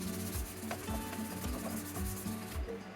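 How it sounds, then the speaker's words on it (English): A green scrubbing pad or fine steel wool scrubs a wooden dining table with finishing cleanser in steady, rhythmic back-and-forth strokes, a close, continuous gritty rubbing with no voices. "you scrub it with either steel wool, probably about a 0 grade, or these green scrubbing pads"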